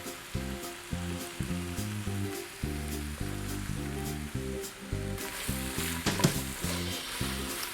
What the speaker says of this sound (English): I want to cook this for about 10 minutes on medium-high heat, so it's nicely sauteed.